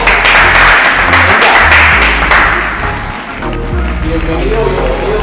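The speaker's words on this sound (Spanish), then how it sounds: "Les pido que reciban junto a mí con un aplauso a nuestro hermano Otto Rosa" Audience applause at a church gathering welcoming a guest named Otto to the stage, a loud dense wash of many hands clapping close by for several seconds, easing slightly midway and swelling again.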